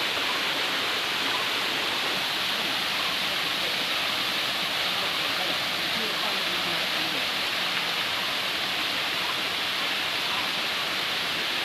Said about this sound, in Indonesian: Ini dia air terjun